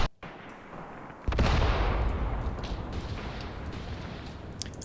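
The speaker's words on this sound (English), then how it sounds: "That's actually my artillery" Artillery fire in the war game Graviteam Tactics: a brief faint crack, then one heavy close boom whose deep rumble rolls on and slowly fades, with small distant pops behind it.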